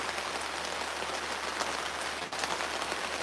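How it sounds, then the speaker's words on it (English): Steady rain falling outdoors during a fishing trip beside a campfire, a dense continuous patter that stays even throughout, with no voices. "The rain is picking up."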